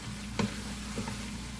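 Yellow onions fry in a pan with a quiet, steady sizzle, broken by a couple of faint clicks from stirring.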